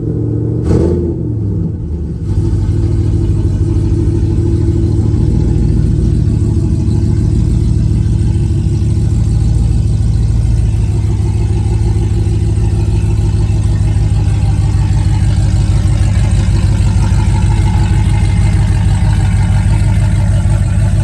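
A pickup truck's engine hums steadily as it drives while bedding new rear brakes, with a deep continuous rumble and road noise that builds slightly over time.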